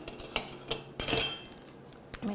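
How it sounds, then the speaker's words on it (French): Metal salad tongs toss ingredients in a bowl during home cooking, making a run of quick, light clinks and scrapes at uneven intervals, close and fairly soft, with one brief louder clatter partway through. "Je vais mélanger le tout."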